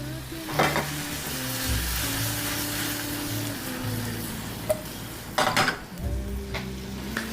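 Shrimp sautéing in butter in a pan over high heat, a loud steady sizzle with scraping stir strokes and occasional clinks of a utensil against the pan.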